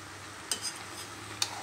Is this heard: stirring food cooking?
yes